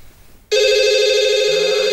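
A telephone abruptly starts ringing with a loud, steady electronic tone during a stage comedy sketch, sounding alone and continuing without pause.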